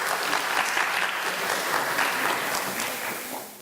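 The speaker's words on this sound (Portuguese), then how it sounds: "Então, palmas para o Lula, por favor." Audience applause at an academic panel on sexual orientation diversity and education, a steady wash of many hands clapping at moderate loudness for the full stretch, fading slightly at the end.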